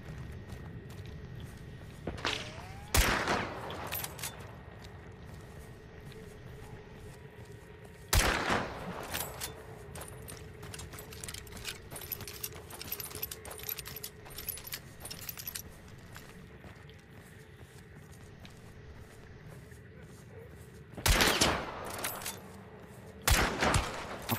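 Gunfire in Hunt: Showdown: a few loud, sharp shots spaced seconds apart, with a close pair near the end. Between them is a quiet ambience of faint metallic clinks and rustling.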